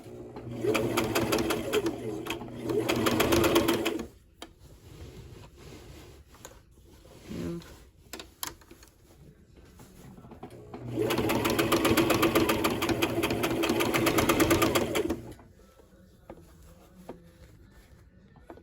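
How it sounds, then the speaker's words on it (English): Sewing machine stitching a skirt: two sustained bursts of rapid, buzzing mechanical whirring, each a few seconds long and close to the microphone, separated by quieter handling noises, with a person talking between runs. "So now you guys can see how I'm sewing it and stuff."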